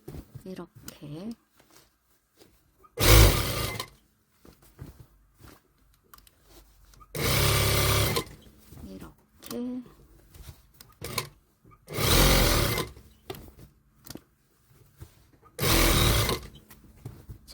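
Sewing machine stitching wide slacks being taken in a size, running in several short loud bursts with pauses between, while a person talks through the gaps.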